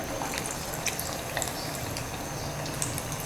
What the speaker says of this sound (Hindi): हमने सिर्फ तेज़ फ्लेम पर इनको 2 मिनट के लिए फ्राई करना है